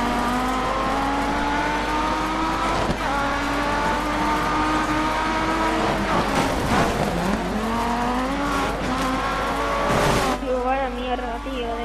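Race car engine roaring continuously in the Dirt 3 rally video game, revving up and down with tire squeal and an impact around the middle, loud throughout while people talk over it.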